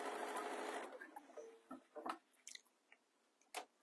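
A sewing machine stitches the seams of a cosy fleece neck warmer, a short close whirring run at the start followed by scattered faint clicks and taps as the work is handled.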